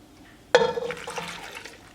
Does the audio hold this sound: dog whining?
no